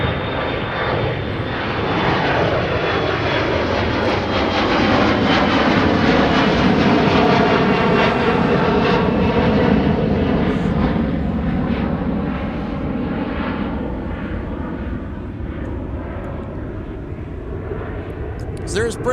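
A United airliner's jet engines at MSP airport make a loud, sustained roar. The sound swells and then slowly eases off as the plane passes close by, with a shifting whine layered over the rumble.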